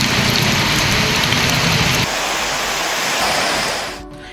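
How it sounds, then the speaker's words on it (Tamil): Steady, heavy rain pours down in Kanyakumari district, a loud, dense hiss of drops that holds evenly before easing off near the end. "கன்னியாகுமரி மாவட்டத்தில் கடியக்காவிளை, குளித்துறை, மார்த்தாண்டம் உள்ளிட்ட இடங்களில் அரை மணி நேரமாக மழை பெய்தது."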